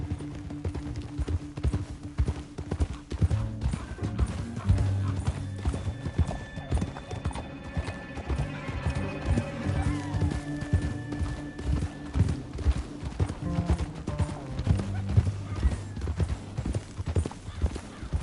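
Horse hooves clip-clop steadily through a busy Red Dead Redemption 2 game soundscape, with occasional whinnies and low background music.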